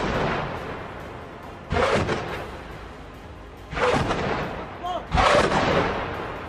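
Artillery fire from Hezbollah positions at Israeli forces near a military site in the Kfar Shouba Hills, Lebanon: three or four loud, broad blasts at irregular intervals, each with a rumbling decay, over a steady noisy background.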